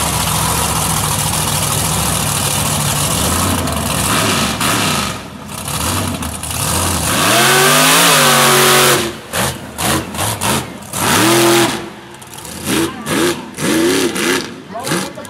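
A supercharged mud truck engine at a mud event howls through rising and falling revs, then bursts into a series of sharp, choppy throttle blips, loud and near, with a commentator's voice over it.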